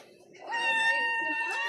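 A pet cat gives one drawn-out, tonal meow that rises and holds for about a second, close and fairly quiet, with no talking over it.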